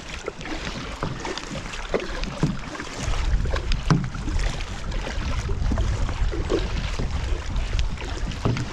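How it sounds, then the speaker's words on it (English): Steady double-paddle strokes from a solo canoe dip and splash in water, with wind buffeting the microphone throughout and a low rumble building partway through. "when I'm solo in this boat, this double paddle is the way to go."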